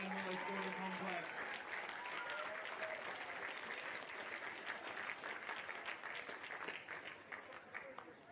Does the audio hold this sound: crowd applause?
yes